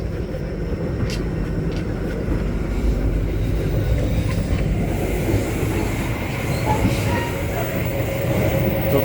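A train pulls into Jatibarang station on the Haurgeulis–Cirebon run, heard from inside the coach as a loud, steady low rumble of wheels and car noise with faint higher squeals, continuous throughout.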